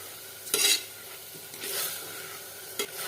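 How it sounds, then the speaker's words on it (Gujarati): Urad dal being sautéed in a pan for a Gujarati dal, with a few brief scraping stirs of a spoon against the pan over a faint, steady background hiss. "તો દાળને આપણે અડધો મિનિટ સુધી સાતળવા દઈએ"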